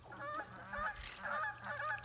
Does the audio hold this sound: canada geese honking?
yes